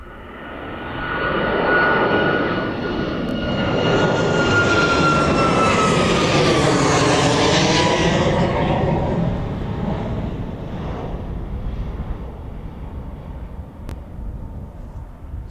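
An aircraft on the runway at East Midlands Airport, a loud roaring engine swelling to a peak and then slowly fading, with a thin whining tone above the rumble.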